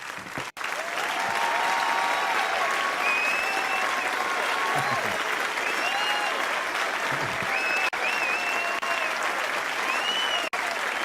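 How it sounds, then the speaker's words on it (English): Sustained audience applause with some whistle-like cheers follows a student team's pitch at a live indie game pitch contest. It holds steady and loud for about eleven seconds. "let's give a round of applause"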